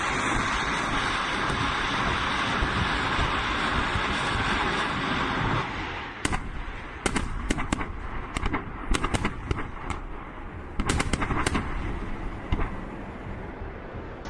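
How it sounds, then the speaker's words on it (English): Detonation of a 220mm thermobaric munition: a long, loud, roaring rush of blast noise, then a rapid series of sharp crackles and pops that fade as the rumble dies down. "The 220mm munitions of the system create a cloud of explosive mixture at the impact site and"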